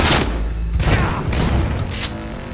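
Shotgun blasts in the video game Cyberpunk 2077, loud booming shots that blend into a continuous barrage of gunfire with no clear gaps.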